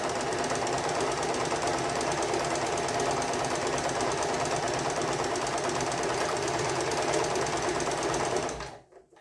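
A sewing machine runs steadily and loudly at close range, stitching one long continuous seam down a dress sleeve before stopping abruptly near the end.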